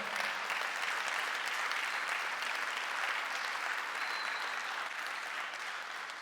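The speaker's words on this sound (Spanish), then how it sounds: "denle un aplauso fuerte al Señor" Church congregation giving loud, sustained applause for the Lord during a sermon, a thick steady roar of many hands clapping that fades slightly toward the end.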